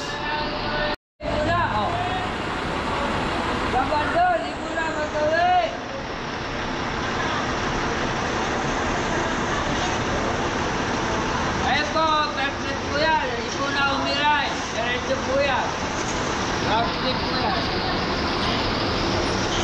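A busy bus terminal on the route to Dingalan, Aurora, with buses idling and passengers waiting, gives a constant roadway rumble and crowd babble, with engines rising and falling and voices rising over it, near and fairly loud.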